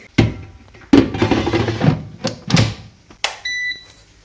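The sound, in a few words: air fryer beeping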